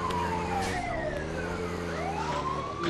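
Wailing ambulance siren in the video game GTA 2, rising and falling steadily over an engine drone, loud and continuous with no talking.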